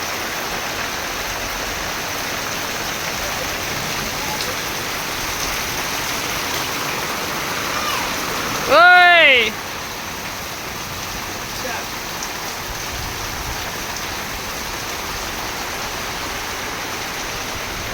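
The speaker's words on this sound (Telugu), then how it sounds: "అసలు వర్షం." Heavy rain pours steadily on a village, a dense even hiss that fills the whole stretch, with a brief voice calling out partway through.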